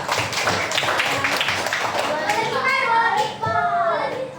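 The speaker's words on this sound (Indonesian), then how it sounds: "Tepuk tangan buat Sifat" Children in a fourth-grade classroom clap for a classmate, a brisk burst of clapping mixed with kids' voices, then the clapping fades as children talk and call out.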